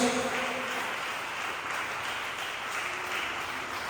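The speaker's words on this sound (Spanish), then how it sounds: "Den un aplauso al Señor" A church congregation applauds during a Spanish-language sermon, producing a dense, even wash of clapping that starts slightly louder, then holds steady throughout, heard from within the room.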